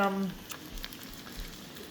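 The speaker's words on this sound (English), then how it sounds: "I'm frying them up in a little bit of oil" Steady crackling sizzle of fish cakes frying in shallow oil, close up, with a brief voice-like tone at the start.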